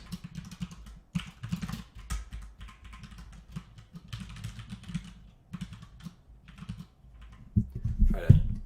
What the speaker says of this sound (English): Try to move the keyboard a little bit. I'm sorry that it's so loud.